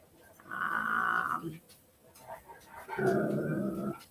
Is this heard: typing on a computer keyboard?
no